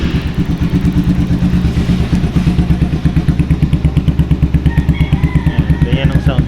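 Motorcycle fitted with an SC Project bent-tip exhaust and silencer (dB killer) idles close by, producing a loud, steady stream of rapid, even exhaust pulses throughout, with a faint higher whine near the end.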